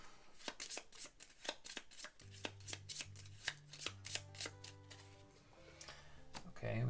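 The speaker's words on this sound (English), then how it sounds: "Shuffle into the event deck." Cards for the event deck of the Robinson Crusoe board game are shuffled in quick, soft riffling bursts, quiet and close, with a low hum and some talk.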